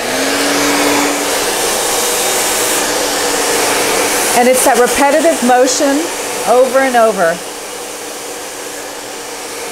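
A hair dryer blows steadily throughout, a constant loud whoosh, with someone talking over it in the second half.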